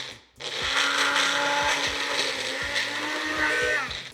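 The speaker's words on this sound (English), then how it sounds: "Now, we just want to blend this up till it's nice and smooth." Blender whirring through a chocolate mousse mixture with maple syrup, a steady loud motor hum that starts after a brief pause and runs continuously with a wavering, droning pitch.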